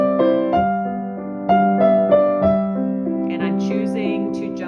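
Piano playing a I-V-I chord progression with a right-hand melody on top: sustained chords struck in a slow, even rhythm, close and clear, with a brief lighter flourish near the end.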